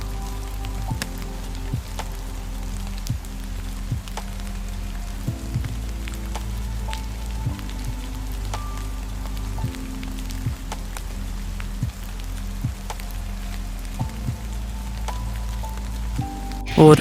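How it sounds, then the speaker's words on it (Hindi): Steady monsoon rain falls over a village, a continuous patter on surfaces with scattered louder drips, alone with no voices. "ये सिर्फ बारिश नहीं है दोस्तों"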